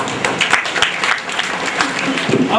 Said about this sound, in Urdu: آپ کی تالیوں کی گونج میں